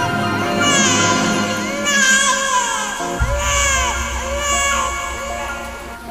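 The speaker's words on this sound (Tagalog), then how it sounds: "Iyak ng sanggol." An infant cries in a horror story setting, with repeated wailing, wavering sobs rising and falling in several bursts, loud and close, over a faint background murmur.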